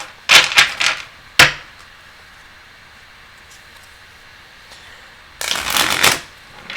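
Tarot cards are riffle-shuffled in quick bursts, a short flurry, a sharp snap, then a quiet stretch before another longer shuffle near the end.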